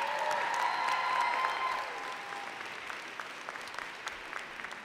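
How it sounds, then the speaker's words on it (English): Members of a graduating class at a university convocation ceremony applaud, a broad wash of clapping from a large indoor crowd that swells early, then eases to a lighter, steady patter. "I invite the members of the graduating class to reciprocate by applauding your family, friends, faculty, and staff"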